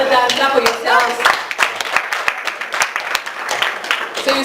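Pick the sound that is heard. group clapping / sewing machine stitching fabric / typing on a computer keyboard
group clapping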